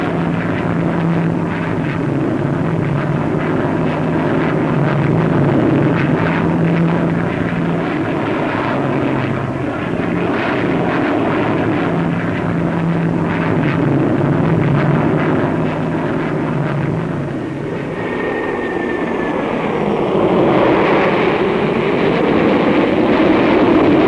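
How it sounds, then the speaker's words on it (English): A Vickers Valiant Mark II V-bomber flying at the Farnborough air show in the 1950s, its loud, steady engine roar droning continuously, with a shifting whine as it passes near the end. "Valiant was the second V-bomber on show."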